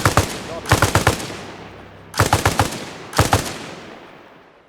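Bursts of automatic rifle fire as suppressive gunfire in the military shooter game Arma Reforger, with three or four loud rapid volleys separated by pauses and echoing tails.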